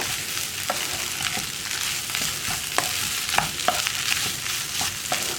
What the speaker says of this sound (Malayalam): ഇതുപോലെ ഒന്ന് നന്നായിട്ട് ഇളക്കി മിക്സ് ചെയ്തെടുത്താൽ മതി.